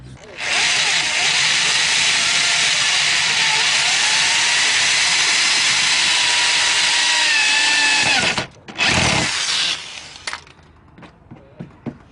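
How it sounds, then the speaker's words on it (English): A power drill whirs loudly and continuously, driving screws into the front lip of a Nissan 350Z, then stops, gives a short second burst, and is followed by faint handling noises. "So now what I'm going to go ahead and do is drill those screws on the back end side."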